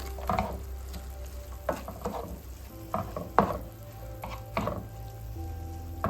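Beef and onions sautéing in a pan on medium-high heat, a steady low sizzle broken by several spoon scrapes and stirring knocks at irregular intervals, close and moderately quiet with no talk.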